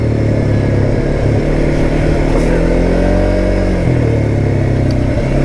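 A Kymco Maxxer 450i ATV with a 450cc engine and CVT drive revs while being ridden, its loud, close engine drone rising and falling in pitch as the throttle changes, with no one speaking.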